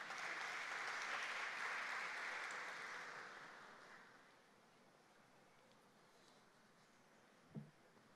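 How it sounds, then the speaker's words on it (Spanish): Applause from a youth parliament audience at the inauguration of a national plenary session in the Peruvian Congress, a sustained wash of clapping that fades away after a few seconds, leaving a quiet room with one faint thump near the end. "Fuertes aplausos para ella."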